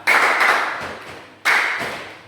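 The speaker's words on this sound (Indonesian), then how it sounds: "Oke, tepuk tangan dulu" A classroom of students claps hands together in two loud bursts of rapid, many-handed applause, each starting abruptly and fading over about a second, with a short gap between them.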